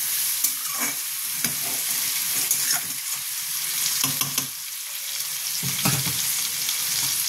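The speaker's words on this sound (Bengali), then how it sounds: "এটা আমি একটু ভাজা ভাজা করে নিই, তারপর দেখাচ্ছি।" Spinach curry with tomatoes fries in a pan, a steady close sizzle broken by repeated scraping stirs of a spatula at irregular intervals, with no talking.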